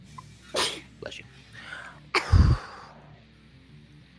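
One loud, close sneeze bursts out sharply after a few quieter breaths and small mouth sounds in an indoor quiz setting.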